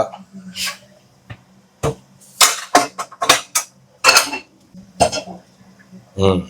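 A large, old metal kadai handled in a home kitchen, several sharp clanks and scrapes of metal in quick bursts, close and loud, with a person talking in between.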